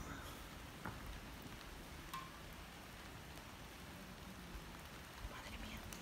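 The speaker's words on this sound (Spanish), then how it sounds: "Con el sonido de la lluvia" Rain falling steadily around the abandoned Preventorio de Busot, a soft, continuous wash of patter with a few faint knocks scattered through it, quiet and diffuse.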